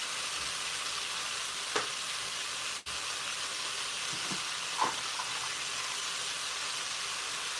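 Shrimp stir fry sizzles and hisses in a pan, a steady faint frying noise with a few small clicks and taps, no talking.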